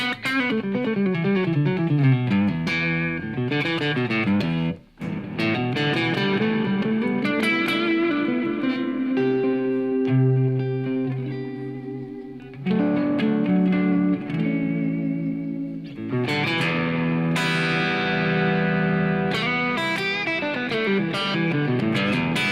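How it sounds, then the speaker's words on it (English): Electric guitar played through a compressor and a Halo delay pedal with no reverb, picked notes and chords ringing out with long, wash-like echo trails that blur into sustained ambience, played alone without talking. "This is the Halo delay. Sounds like a reverb, but there's no reverb on."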